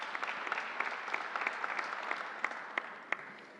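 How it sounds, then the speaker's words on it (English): An audience gives SUNY personnel a round of applause at a Suffolk County Community College event, a steady wash of clapping with a few sharper claps standing out toward the end. "Let's give them a great round of applause."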